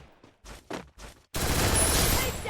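Rapid gunfire from the mobile shooter game Free Fire bursts in loud and continuous after a few short thumping footstep-like hits, filling the second half with dense sustained shots.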